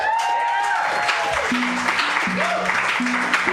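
A studio audience applauds a comedian's introduction at a talk-show taping, a dense, steady wash of clapping that lasts throughout, with music and a few tonal sounds layered over it.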